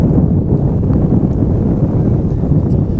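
Strong wind buffeting the microphone at an ultimate frisbee match, a heavy, constant low rumble throughout with no talking.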